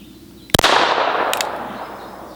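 A single sharp crack from a North American Arms .22 mini revolver with a 1.125-inch barrel, followed by a short echoing tail and a second fainter snap, loud and close.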